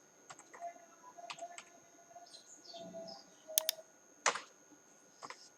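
Faint, scattered keystrokes on a computer keyboard as a school name is typed, coming in short irregular bursts with gaps in a quiet room.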